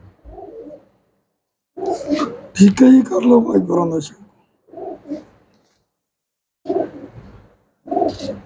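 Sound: pigeons cooing

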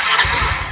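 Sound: Suzuki Viva R110 motorcycle engine starting and idling

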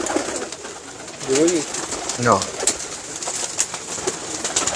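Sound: pigeons cooing

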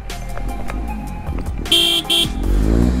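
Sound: vehicle horn honking

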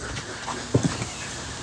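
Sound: dog

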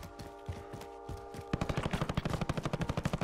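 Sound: gunfire in video game Call of Duty Warzone

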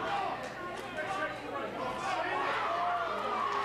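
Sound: crowd cheering at a boxing match

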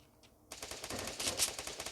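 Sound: gunfire in a firefight in the Free Fire video game

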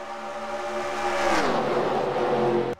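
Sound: race cars racing, from NASCAR Racing 2003 video game

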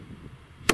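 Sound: Funke Honey Badgers firecracker exploding

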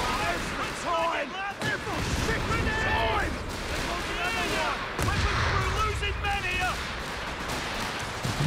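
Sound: artillery barrage and gunfire in Company of Heroes 3 video game

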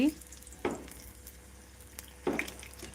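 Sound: frying chillies for bajji

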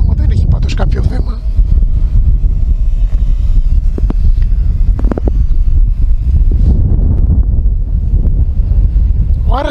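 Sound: strong wind blowing against a drone's microphone

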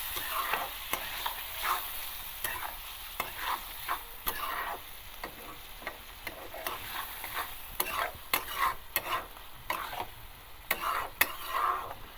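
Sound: stir-frying soybean chunks and potatoes in a pan

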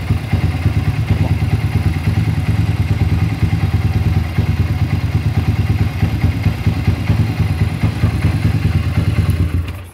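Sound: motorcycle engine timing chain noise

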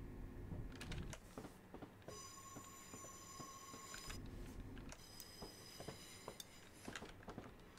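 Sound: passing train in train simulator video game

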